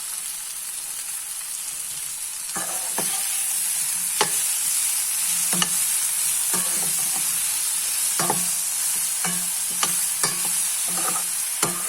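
Curry leaves and sesame seeds crackle in hot oil for a raw tomato chutney, a steady close sizzle broken by repeated sharp pops and stirring scrapes, with no talking.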